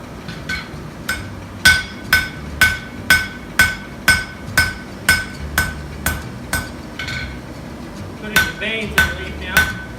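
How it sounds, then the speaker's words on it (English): A hammer strikes hot steel in a steady forging rhythm, shaping a steel leaf, about a dozen sharp ringing blows evenly spaced, loud and close, with a few lighter taps near the end. "Hammer that into it so you can give it a little form"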